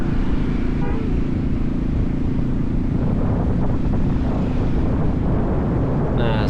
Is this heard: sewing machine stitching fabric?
no